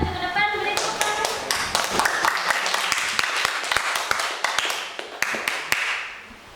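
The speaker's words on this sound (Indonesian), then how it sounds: "beri tepuk tangan" Sparse, uneven claps and taps from a classroom audience during a group presentation session, individual hand strikes standing out close and sharp rather than forming a dense ovation, with faint talk beneath.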